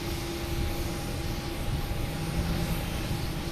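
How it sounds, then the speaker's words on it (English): JetBlue Airbus A320 jet arriving from Santo Domingo at Boston Logan, a steady far-off engine drone with a sustained low tonal hum, fairly quiet and continuous. "JetBlue A320."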